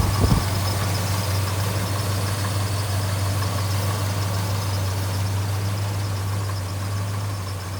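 A 1969 Dodge Charger R/T engine idles steadily through a bone-stock exhaust with stock mufflers and tailpipes, a loud, constant low rumble with no talking over it.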